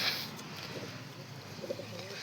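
Soft pigeon cooing drifts in faintly from a distance over steady outdoor hiss, a few low murmuring coos.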